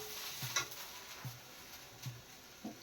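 Green chillies fry in a pan on medium flame, a faint steady sizzle broken by a few soft stirring scrapes spaced roughly every second, close and quiet.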